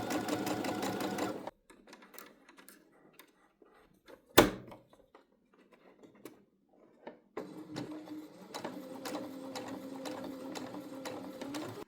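Sewing machine stitching a bucket hat: a burst of fast, rhythmic stitching, then quiet handling with a sharp thunk, then the machine runs steadily again, close and clear.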